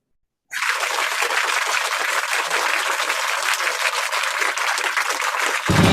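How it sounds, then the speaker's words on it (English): Sustained, dense applause from a conference audience fills the room for several seconds, steady and loud, honouring a professor who has just spoken at an international multidisciplinary studies conference. "Please give a round of applause for Professor Eric."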